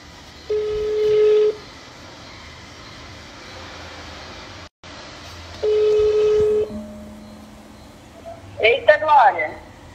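A phone is dialed and rings, with two sustained tone bursts separated by a quiet pause, followed by a short burst of excited voices at the end.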